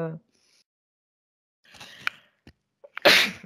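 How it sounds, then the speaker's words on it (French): A single sharp human sneeze, close and loud, preceded by a brief indrawn breath and faint sounds. "Oui, j'éternue."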